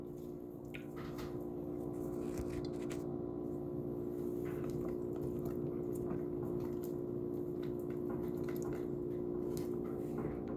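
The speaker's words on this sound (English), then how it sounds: "I'm just going to keep mixing it constantly until it melts down thoroughly." A Payday bar mixture being stirred constantly in a pan as it melts, giving quiet, continuous soft squishing and sticky scraping sounds with no speech.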